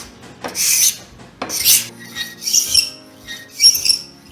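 A hand scraper blade, No. 80, shaves a wood surface in four separate rasping strokes, each one loud, close and breathy. No voices are heard.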